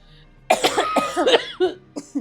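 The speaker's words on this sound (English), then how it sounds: "Because the cough is coming in from the flavor" Harsh coughing after smoking a cannabis strain comes in a close, loud burst of several rapid coughs that tail off into a few smaller hacks.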